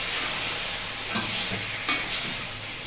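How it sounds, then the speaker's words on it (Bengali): Marinated chicken frying in a spice paste in a pan: a steady close sizzle with a couple of soft stirring scrapes and clatters, and no one speaking. "মশলা থেকে তেল ছেড়ে গেছে, এই পর্যায়ে দিয়ে দেবো এখানে চিকেন ম্যারিনেট করা দিয়ে দেবো।"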